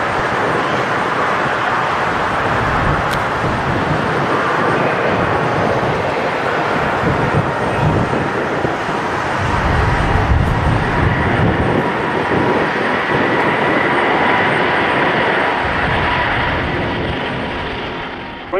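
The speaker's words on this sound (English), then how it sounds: "This Delta Airbus A350 performs a short takeoff on a ferry flight without any passenger." A Delta Airbus A350 on a short takeoff during an empty ferry flight gives a loud, sustained jet engine roar with a broad rushing rumble that swells slightly midway, then fades near the end, with no talk.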